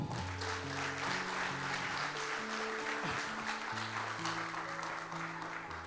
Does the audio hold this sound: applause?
yes